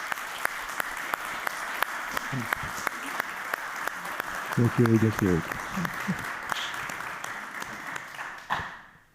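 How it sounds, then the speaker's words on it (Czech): Audience applause greets a guest at a Slovak talk event, a steady patter of clapping running the full length with a brief spoken thanks partway through and a short louder swell near the end. "Prosím, potlesk."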